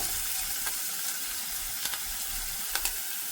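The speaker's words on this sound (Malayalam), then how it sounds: "ഇതിലേക്ക് നമ്മൾ കട്ട് ചെയ്ത് വെച്ചിട്ടുള്ള ഇഞ്ചി, ഉള്ളി, സവോള എല്ലാം ചേർത്ത് കൊടുക്കുകയാണ്" Ginger, onions and shallots sautéing in a hot pan for a prawn capsicum masala, a steady close sizzle with a few sharp spatula scrapes and taps against the pan.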